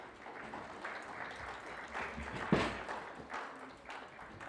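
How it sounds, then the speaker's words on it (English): A conference audience applauds a speaker being welcomed to the stage at a tech event, moderate scattered clapping with one sharper burst midway. "A huge round of applause for Mr."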